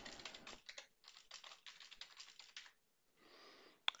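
Password typed on a computer keyboard: quick bursts of close key clicks with short pauses, a brief softer stretch near the end, then a sharper final keystroke, quiet and with no talking.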